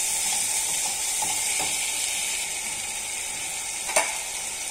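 Tomatoes fry in a hot tadka for dhaba-style palak paneer, giving a steady, even sizzle throughout, with one brief clink of a utensil near the end.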